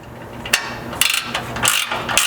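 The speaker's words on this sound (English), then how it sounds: "we can reach through the side with a 1/2 inch, preferably ratcheting wrench, and tighten up the 2 front mounting bolts" A 1/2 inch ratcheting wrench tightens the two front mounting bolts of a skid plate system on a 4th gen Toyota 4Runner, giving several close, bright ratchet clicks in short bursts over a steady background hum, with no talking.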